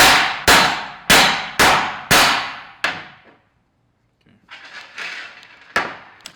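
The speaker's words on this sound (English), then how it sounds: "we're gonna just use a hammer and tap out each stud" A hammer striking wheel studs on a GR Corolla wheel bearing hub: six sharp metallic clangs in a steady rhythm, each ringing out briefly. A pause follows, then a voice speaks and one more clang lands.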